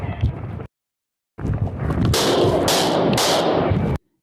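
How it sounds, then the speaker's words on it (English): Bursts of gunfire in a crime video game, a dense rattle of shots that runs for about two seconds after a brief silence, loud and close, with earlier noisy clatter and no talk over it. "He's definitely shooting at the cop that's on the floor right there."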